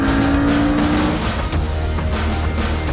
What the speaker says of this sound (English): the sound is more intense, sportier, racier, and the backfire is also a lot more noticeable